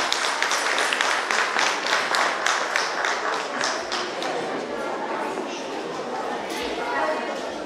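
Crowd clapping at a traditional customs and folk festival in Dofteana, Romania: dense, steady applause from an audience, loud and close, fading slightly toward the end with a low murmur of voices underneath.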